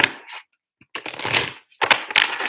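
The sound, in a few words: shuffling a deck of cards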